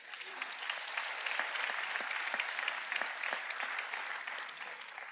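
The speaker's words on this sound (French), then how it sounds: "J'aimerais qu'on les applaudisse très fort." A crowd at an awards ceremony applauds steadily with sharp individual claps standing out over a continuous wash of clapping, moderately distant and sustained for several seconds without speech.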